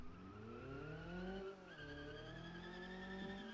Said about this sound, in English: There's even the tires screeching sound.